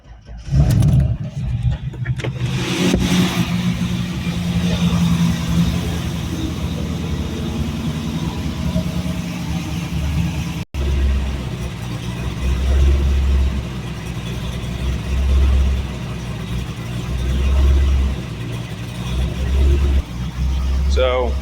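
A Chevrolet C5 Corvette with 147,000 miles and mufflers fitted starts up, then settles into a steady, fairly quiet idle with a low rumble and a few slight revs. The engine runs throughout, close to the microphone and without speech.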